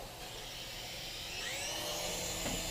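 A Swann Micro Attack indoor RC helicopter spins up for takeoff, a steady high whine with a rising rotor pitch building over a constant motor buzz, fairly faint and close with no talking.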